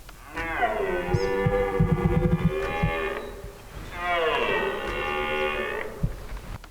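A red deer stag roaring in the New Zealand bush in Southland, giving two long, loud, drawn-out bellows separated by a brief pause.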